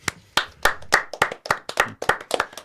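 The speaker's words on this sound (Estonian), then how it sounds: "Aplaus!" Studio guests clap in a brisk, uneven burst of about a dozen sharp handclaps, close and loud with no voices.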